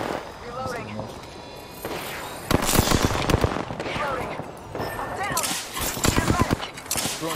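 Gunfire from a video game shooter played on MSI RTX 2060 and 2070 hardware: rapid automatic bursts crackle loudly in clusters, with pauses between volleys, while a player talks over the shooting.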